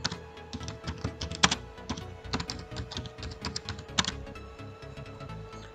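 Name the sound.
typing on a computer keyboard in Microsoft Word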